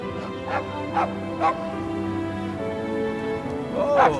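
Cosmo the puppy barks in the Guardians of the Galaxy video game, three quick yapping barks in a row, a pause, then one more, over a soft sustained musical tone.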